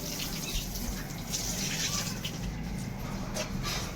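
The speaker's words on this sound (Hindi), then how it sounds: "पतिदेव पानी पटा रहल छथिन" Water poured over a freshly laid concrete kitchen slab to cure it on a house building site, a steady close hiss and gush of running water lasting throughout, with no talk.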